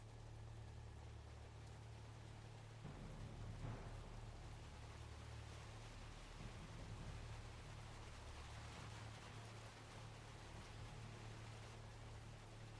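Steady rain falls in the video game Watchmen: The End is Nigh, a continuous broadband hiss with a low rumble and occasional faint swells, constant throughout with no talking.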